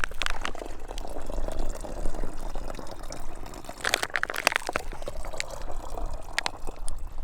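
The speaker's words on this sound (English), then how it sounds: "After filling my bottle with the cold, clear water from Piute Lake" Cold, clear water from Piute Lake gurgles and trickles into a bottle outdoors, a continuous close burbling with a few brighter splashes and clinks, no talk.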